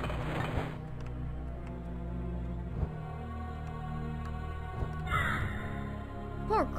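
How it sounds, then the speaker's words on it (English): A crow cawing in the video game A Crow In Hell, several harsh caws in bursts over a dense game soundtrack, with light clinking effects and no talk. "Poor crow getting beat up and everything."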